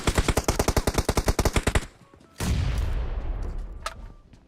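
Rapid automatic gunfire in PUBG Mobile: a burst of about fifteen evenly spaced loud shots over nearly two seconds, then a heavy boom-like blast with a long rumbling decay, no talk.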